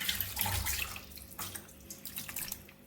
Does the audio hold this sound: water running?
yes